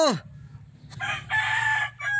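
A rooster crows once nearby, its drawn-out call rising and wavering over a quiet low background.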